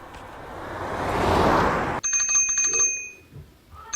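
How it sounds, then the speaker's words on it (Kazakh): Bicycle bell rings in a quick series of bright metallic dings after a burst of broadband noise, fairly close and clear with no talk. "Велосипед,"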